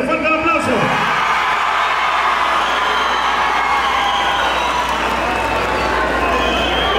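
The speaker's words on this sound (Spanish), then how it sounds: "Rancho La Revolución, regálenle un fuerte aplauso." Audience at a ranch competition contest applauds and cheers for Rancho La Revolución, a loud, sustained wash of clapping, whoops and crowd noise that fills the whole stretch.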